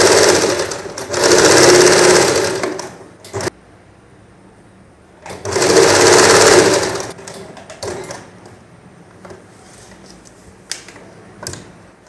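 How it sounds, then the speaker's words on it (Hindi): A sewing machine stitches a reinforcing line over an existing seam with reverse stitching, running in two loud bursts of steady whirring separated by quiet pauses. "इसी सिलाई के ऊपर एक सिलाई कर दूँ, इसी निशान के ऊपर एक्चुअली एक सिलाई कर दूँगी"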